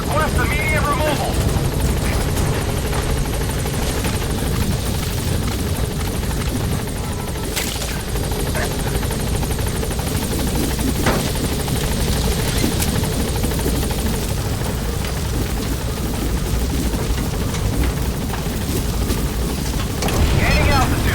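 A helicopter in Metal Gear Solid V hovers with a constant loud rotor roar and wind rush, steady from start to end, while radio voices speak over it.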